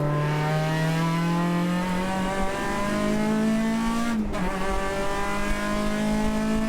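An RSX race car in a racing video game holds a steady, loud engine drone that climbs slowly in pitch before a quick gear change, with a faint tire hiss and no talk.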